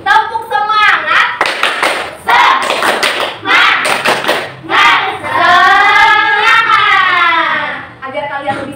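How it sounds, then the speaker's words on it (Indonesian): A classroom of children performs a rhythmic spirit clap led by a teacher, bursts of patterned hand claps alternating with shouted group chanting and a voice talking between them. "Tepuk semangat!"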